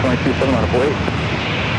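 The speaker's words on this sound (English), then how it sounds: "We'll go over to the American A321." An American Airlines A321 airliner at San Diego airport, its engines a steady broad roar under a voice talking near the start.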